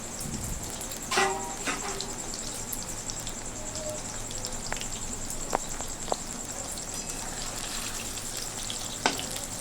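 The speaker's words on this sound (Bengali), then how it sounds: "অল্প অল্প করে দিয়ে সুন্দরভাবে লাল লাল করে আমি ফ্রাই করে নেব সোয়াবিনগুলো" Soybean chunks for chilli soybean fry in oil in small batches. The sizzle is steady and moderate, broken by a few faint clinks and taps.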